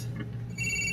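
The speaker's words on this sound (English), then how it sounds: "The phone's ringing." A telephone rings in the crime game GTA 4, a steady electronic ring tone heard alone and fairly loud over a low hum.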